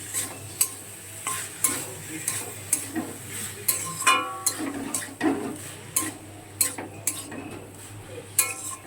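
Boiled banana flower sautés with potato and spices in a pan. A soft sizzle runs underneath while a spoon stirs and scrapes the pan in a steady rhythm of clinks and taps roughly every half second.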